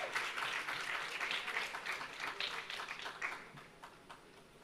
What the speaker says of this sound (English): Round of applause for Minerva.